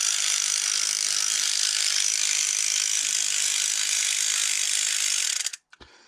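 A vintage Skil 2238 battery ratchet runs with a loud, dense mechanical whirring and clatter for several seconds, then stops abruptly, leaving a few faint clicks.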